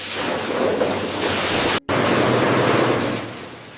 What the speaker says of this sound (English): Carrots enter rotating drum washers, where high-pressure water removes all field dirt.